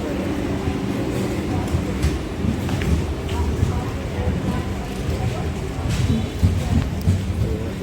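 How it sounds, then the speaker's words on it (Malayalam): Train rumbling steadily at a railway station beside a metro station, a continuous low rolling roar with faint clatter and murmuring voices throughout. "ട്രെയിൻ പോയി."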